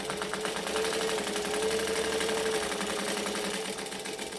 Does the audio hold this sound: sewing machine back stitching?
yes